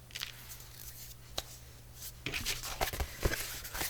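Scissors cut open a paper envelope with a few sharp snips and crisp paper rustles, mostly in the second half, in a quiet room.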